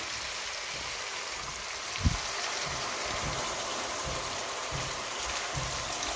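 About half a glass of water poured into a cooking pot of aloo keema, a soft, steady splashing pour with one small knock partway through.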